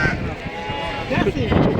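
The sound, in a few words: Alpine goats bleating at an animal market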